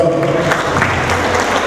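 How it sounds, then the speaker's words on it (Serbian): Audience applause at a folk ensemble concert in Klenje, a dense, steady wash of clapping from a crowd lasting the whole short moment with no pauses. "Još jedan aplauz za njih."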